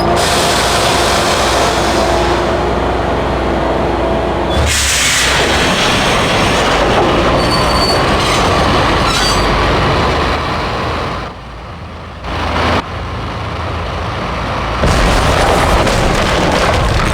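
A train rumbling in the Max Payne video game, a loud, dense roar that fills the whole stretch, with a booming surge near the start and a brief dip in the middle before it swells again.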